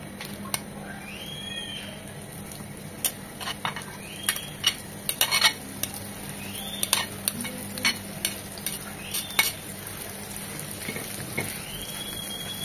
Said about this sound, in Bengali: এখন এটাকে বাগার দেব। প্যানে দিয়ে দিচ্ছি 2 চামচ সরষের তেল